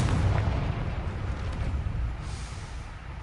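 Confringo spell blasts in Hogwarts Legacy erupt as a dense, rumbling explosion that fades over a few seconds, loud and near, with a faint crackling burst toward the end and no speech.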